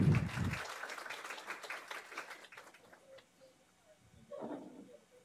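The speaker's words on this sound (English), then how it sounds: "Let's give them all a round of applause." Audience applause for two board members at a Black History Month café event: clapping in the first couple of seconds that fades quickly into quiet room noise, with a brief murmur of voices near the end.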